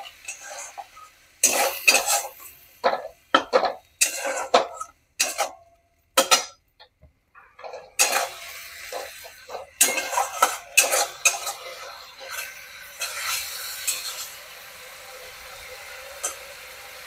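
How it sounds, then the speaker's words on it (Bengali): A spatula scrapes and stirs spice masala in a pan while cooking Bengali methi saag, making intermittent metallic scrapes and clinks in uneven bursts, close by, with quieter sizzling between strokes. "এবার আমি এই মশলাটা ভালো করে কষাতে থাকবো"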